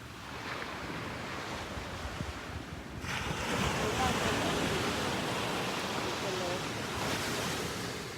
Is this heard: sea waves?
yes